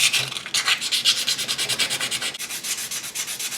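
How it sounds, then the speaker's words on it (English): Hand sanding paint off a metal wiper arm, a steady back-and-forth scraping rub repeated in quick even strokes, close and moderately loud with no voices. "And now it's time for the sanding."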